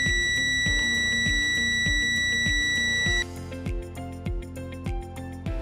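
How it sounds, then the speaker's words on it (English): A steady electronic multimeter continuity beep sounds for about three seconds while checking magnetic flowmeter electrode grounding, then gives way to rhythmic background music with no voices. "Multimeter make beeping indicates signal grounding is intact."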